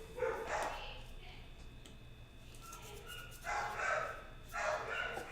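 Indoor dogs barking in a few short bursts at someone at the door, moderately close, with quieter gaps between volleys.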